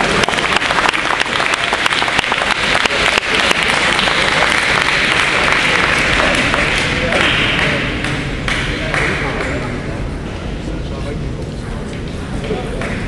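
Loud, sustained applause fills a hall at a 2008 Méritas awards event in Québec, steady throughout with some voices and cheering mixed in, easing slightly toward the end.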